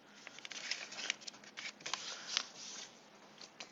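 Paper being folded by hand, its left side creased over to the center, with a series of soft rustling crinkles and swishes close by.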